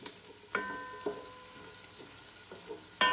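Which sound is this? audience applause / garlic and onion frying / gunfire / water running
garlic and onion frying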